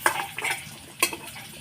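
Fried pointed gourd lifted out of a pan with a utensil: a few short scraping clinks against the pan, close and fairly quiet, with no talking.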